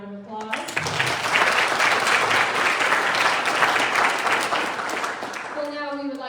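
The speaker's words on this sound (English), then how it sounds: "Let's give them all another round of applause." Audience at a Miss Wheelchair Kansas pageant breaks into sustained, loud applause lasting several seconds, steady and full before fading as a voice returns at the end.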